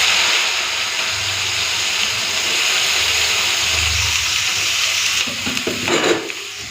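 Onion, bitter gourd and green chillies fry in hot oil in a kadai, giving a steady loud sizzle and hiss, with a brief clatter of stirring near the end.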